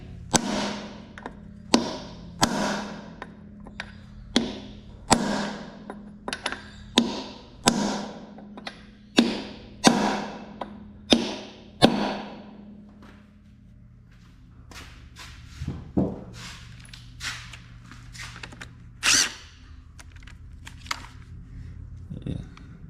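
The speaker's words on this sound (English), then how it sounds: "now I've got aluminium drift. We're just going to hit the end of these to hopefully pop these" An aluminium drift is struck repeatedly to knock tapered collets loose during 4WD system repair on a Toyota Land Cruiser HZJ75, giving sharp metallic blows in an irregular series, then scattered quieter knocks.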